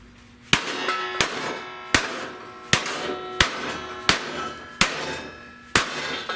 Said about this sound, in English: let me just hammer this without